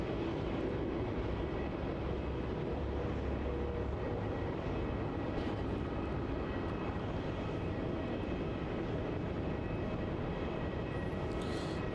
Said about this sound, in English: And that will vacate off runway 34 and taxi to its gate.